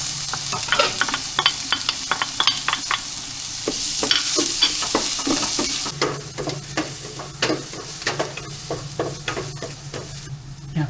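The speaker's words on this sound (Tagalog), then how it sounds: "Lagay na po natin lahat ng luya, bawang, sibuyas. So, nasamayin na po natin." Ginger, garlic and onion sauté in olive oil with a constant sizzle, while a spatula scrapes and stirs in quick, rhythmic strokes close by, loud throughout, with no speech.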